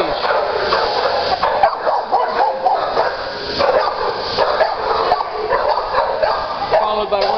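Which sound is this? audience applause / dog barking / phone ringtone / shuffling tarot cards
dog barking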